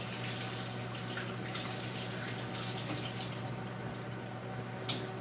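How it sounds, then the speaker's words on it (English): Tap water running steadily into a sink as sticky gel is rinsed off a hand, a constant close hiss and splash with small shifts as the hand moves under the stream. "Just rinsing the gel off my hand."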